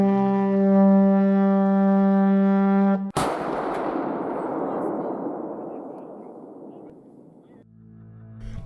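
Film artillery fires one huge cannon blast that cuts off a long, sustained horn-like tone, then rumbles and fades slowly for several seconds before a low tone returns.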